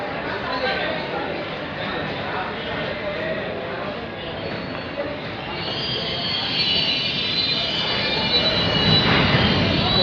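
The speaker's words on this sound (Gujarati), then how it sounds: "તો ચાલુ થઈ ગઈ ટ્રેન." A long passenger train starts pulling out of Jamnagar railway station, its rumbling rolling noise and faint wheel squeal growing louder toward the end, heard under steady station chatter and talk nearby.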